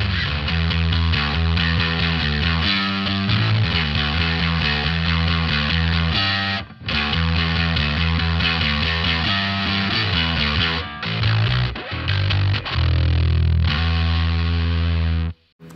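Bass guitar played through a Boss Katana 210 bass combo amp on its yellow drive distortion setting, heavily compressed: a continuous, loud, gritty riff with sustained notes and brief gaps, no talking.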